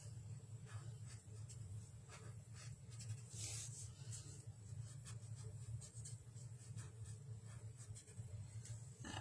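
A pencil is drawn lightly across paper in soft, close scratchy strokes, repeated in short bursts over a low steady background hum, with no talking.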